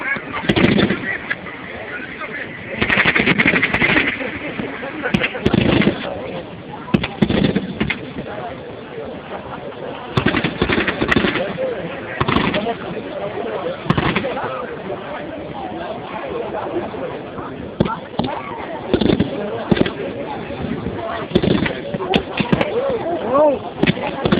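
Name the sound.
gunfire in army combat display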